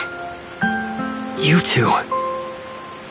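Rain falls in a Tower of Fantasy game scene, a soft steady patter heard under character dialogue and sustained musical tones.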